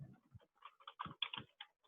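Irregular quick taps and clicks on a computer keyboard, fairly faint and close, with short gaps between bursts of keystrokes.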